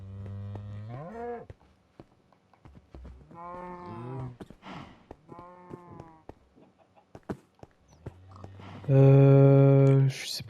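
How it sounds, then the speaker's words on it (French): Cows in Minecraft moo with the game's new cow sound: a series of drawn-out, harmonic calls from several animals, separated by pauses and small clicks, closing with one especially loud, close moo. "le nouveau son des vaches là"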